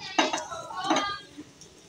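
A large soup bowl is set down on a table in a home kitchen, giving two clinks of crockery close by, followed by faint rustling.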